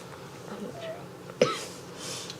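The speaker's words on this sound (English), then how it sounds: "Clear your throat a little bit." One short, abrupt throat clear in a quiet indoor setting, standing out clearly against faint background hum.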